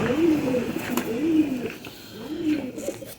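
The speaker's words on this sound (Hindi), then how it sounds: "ये कबूतर मेरी बहुत ही फेवरेट, मेरे दिल को लगे हुए कबूतर है सब फकीर गुल।" Faqeer Gul pigeons coo nearby in repeated low, rolling calls, three swelling phrases in a row over a faint background hum.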